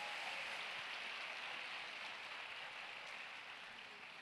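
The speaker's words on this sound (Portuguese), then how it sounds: "Dê para Jesus uma forte salva de palmas." Audience applause at a church conference in Campo Grande, a dense, steady wash of clapping that fills the space throughout and slowly fades a little toward the end, with no voices over it.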